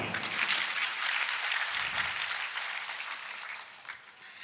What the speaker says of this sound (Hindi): अब आप जोर से ताली बजाइए।